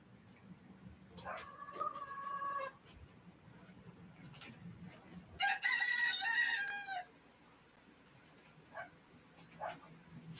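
Hens in a pen give two long, loud crowing calls among scattered clucks and squawks, with other animal noises nearby and a low background rumble.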